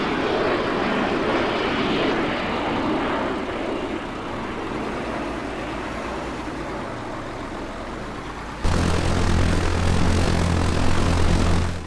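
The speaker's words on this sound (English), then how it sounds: "Spanish Armed Forces has a complete system of unmanned aerial vehicles MQ-9 Predator" An MQ-9 Predator unmanned aerial vehicle, rendered in the ARMA 3 video game, drones steadily with a propeller engine hum, then the sound jumps abruptly louder and closer with a strong low tonal engine note.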